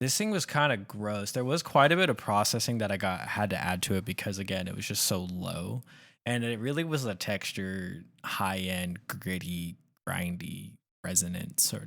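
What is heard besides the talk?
None of the usual background noises is heard.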